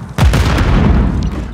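A Semtex grenade blows up in a Call of Duty match, heard as one sudden loud, close boom that rolls into a rumbling, dense tail lasting more than a second.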